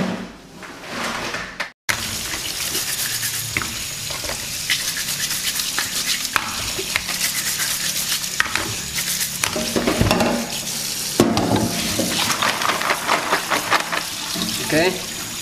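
Freshwater clams are washed under running water, with a continuous splash and rush from the tap and shells clattering and scraping together as they are rubbed, loud and close, and a few light hand noises mixed in.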